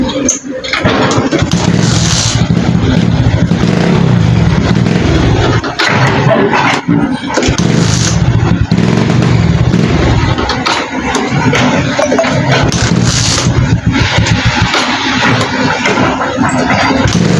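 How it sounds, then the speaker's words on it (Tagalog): A misfiring motorcycle engine, a Honda Smash underbike, runs roughly during troubleshooting, loud and close with an uneven, stumbling idle that dips and nearly dies, then picks back up, with some shuffling noise around it. "palyado yung motor, kaya patirik-tirik"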